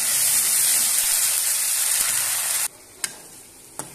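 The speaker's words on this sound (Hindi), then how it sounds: "मसाला दोस्तों हमारा लगभग भून चुका है" A ground spice paste fries with onions in hot oil, giving a loud, steady sizzle that cuts off sharply partway through, followed by a few brief clinks and stirring sounds.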